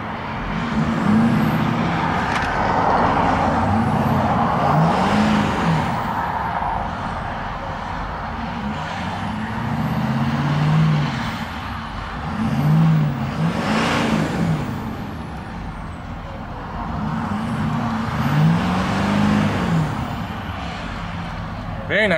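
A 2011 Ford F250 Super Duty King Ranch with the Powerstroke diesel idles steadily and is revved up several times in rising and falling surges, with traffic noise from a nearby highway in the background.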